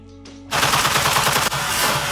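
A suppressed CZ Bren rifle in 7.62x39 fires a rapid burst after a brief quiet moment, the shots loud, close and packed into a dense rattling stream.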